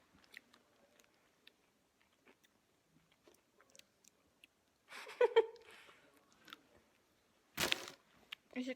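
Pistachio brittle is bitten and chewed up close: soft, sparse chewing clicks, then a louder crunching bite midway and another sharp crunch near the end, in an otherwise quiet room.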